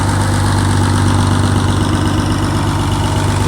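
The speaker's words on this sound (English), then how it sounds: "Listen to the left side of the engine." A 1985 Crown Super Coach bus engine idles with a steady, low rumbling drone, loud and close, unchanging throughout.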